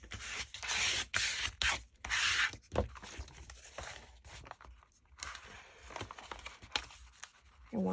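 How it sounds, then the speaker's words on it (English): Wet paper being folded over by hand while assembling an envelope-style journal, a run of close, loud rubbing and crinkling strokes with brief pauses, no talk. "I am going to fold it over now"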